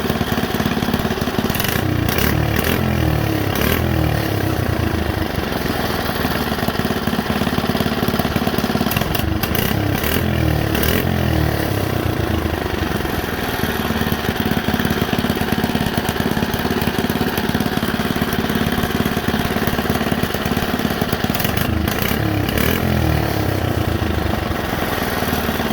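A small mini bike engine idles steadily after its carburetor idle speed was lowered and the mixture tightened, a continuous close mechanical chug with a few brief surges in rhythm.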